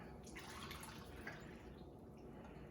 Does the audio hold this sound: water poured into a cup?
yes